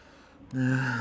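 A single sharp inhalation during a spine-stretching exercise, quiet at first and then a strong voiced breath that holds to the end, close and alone.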